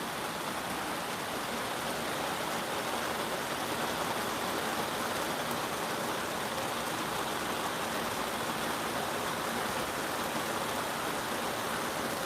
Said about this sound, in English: the rain is beautiful